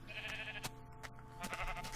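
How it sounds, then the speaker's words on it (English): Sheep bleat faintly in Minecraft on Xbox 360, a few soft wavering calls over a low, steady game background hum. "Sheep knocking about."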